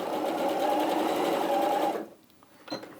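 A sewing machine stitching fabric pieces together, a continuous close whirring run of about two seconds that cuts off abruptly, followed by a brief clatter and soft handling noise.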